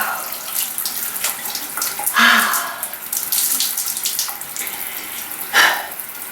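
Cold water from a shower runs in a steady, close hiss, with a couple of brief louder splashes as the spray shifts.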